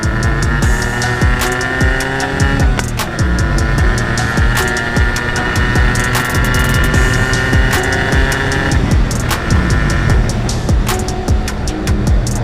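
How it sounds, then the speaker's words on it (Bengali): A Yamaha RX115 two-stroke motorcycle idles and revs, its exhaust giving a loud, continuous buzzing rattle with a few sharp throttle blips, close by and alone without talk. "এক্সজস্টের সাউন্ডটা ফিল করেন।"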